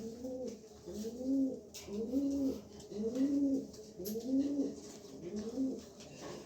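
A wing-clipped male pigeon coos repeatedly at close range, about six rolling, evenly spaced coos in a steady rhythm, each rising and falling, with no talk over them.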